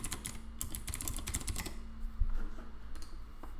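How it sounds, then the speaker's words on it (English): Fingers type on a mechanical keyboard in quick clattering bursts of sharp key clicks, followed by a brief pause and a few scattered keystrokes, close and moderately quiet. "I stuck with the mechanical keyboard for the day anyway."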